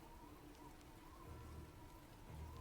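Steady, close rain falling continuously outdoors, a dense even hiss of drops on surfaces with a soft low rumble underneath, no voices.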